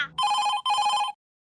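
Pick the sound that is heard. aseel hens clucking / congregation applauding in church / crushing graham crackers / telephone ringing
telephone ringing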